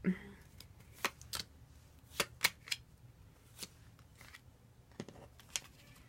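Soft, scattered flicks and riffles of tarot cards being shuffled, a handful of quick crisp bursts spaced irregularly in a quiet room.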